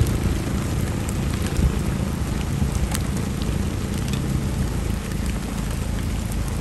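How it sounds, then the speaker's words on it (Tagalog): Rain falls near the main crater of Taal Volcano as a steady, dense hiss of drops on surfaces, loud and unbroken for the whole stretch, with a faint low rumble underneath. "So ngayon po umuulan dito sa may tapat ng Taal Volcano, sa may main crater."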